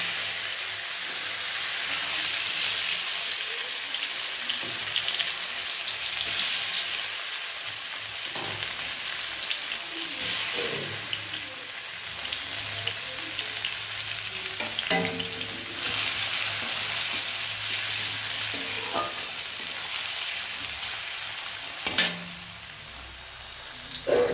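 Onions frying in hot oil with cardamom and cinnamon for an egg curry give a steady, continuous sizzle with occasional stirring scrapes and crackles, close and fairly loud throughout.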